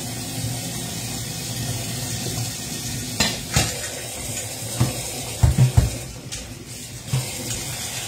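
Dishes are washed at a kitchen sink, with running water hissing underneath and scattered clinks and clatters of plates and pots, the knocks growing louder and more frequent toward the end, no talking.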